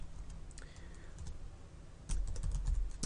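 Code is typed on a computer keyboard, with scattered key clicks at first, then a denser burst of rapid keystrokes, close and crisp with no talking.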